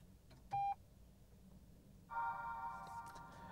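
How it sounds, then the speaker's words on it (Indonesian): A Toyota Yaris Cross Hybrid's power button pressed, answered by a short electronic beep and then a longer two-tone startup chime, both faint over a quiet cabin hum. "Ini suara mobil-mobil Toyota Daihatsu DNGA, startupnya begitu semua ya"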